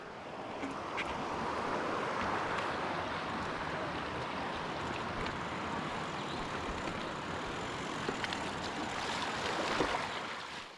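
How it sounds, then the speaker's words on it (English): Mountain bike splashing across a small river in a forest, broadband rushing water and wheel noise steady throughout, close and fairly loud, with no talking. "And crossing the little river."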